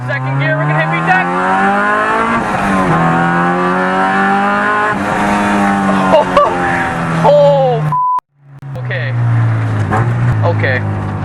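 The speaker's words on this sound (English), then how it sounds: "And then on second gear, we're gonna hit VTEC." A K20-swapped 1996 Honda Civic hatchback race car engine revs hard in second gear into VTEC, climbing in pitch, loud and close, with a brief cut in power before pulling again.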